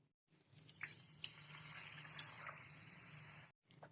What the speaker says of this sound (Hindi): अब हम इसके अंदर ऐड करेंगे 3 कप दूध।